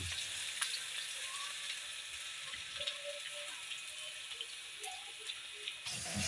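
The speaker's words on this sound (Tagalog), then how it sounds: "lagyan natin ang mantika, tsaka ilagay, natin, ilagay natin yung bawang, tsaka sibuyas" Garlic and onion fry in hot cooking oil in a pan, a loud, continuous crackling sizzle that holds steady throughout with small pops and spits, with no voices over it.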